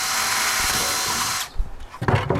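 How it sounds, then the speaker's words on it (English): A power drill whines steadily at high speed drilling a hole in a plastic bucket, cuts off, then a few knocks and handling clatter follow. "drill a hole a little bit bigger than the wire you'll be using to support the tin can."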